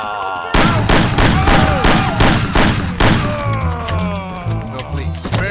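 Gunshots in the video game Mafia: The City of Lost Heaven, a loud rapid string of about a dozen sharp bangs with echoing tails, tapering into ringing and a droning hum.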